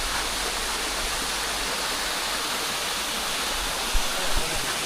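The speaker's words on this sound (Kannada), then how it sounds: "ತೀರ್ಥಕೆರೆ ಜಲಪಾತ" Theerthakere waterfall near Horanadu pouring in a dense, steady broadband rush, close and constant, with a brief bump near the end.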